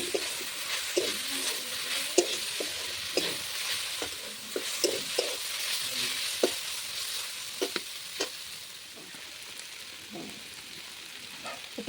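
A spatula stirs snake gourd curry with coconut in a pan, making repeated soft scrapes and taps over a faint, steady sizzle. The sound is close and unhurried, with no talking.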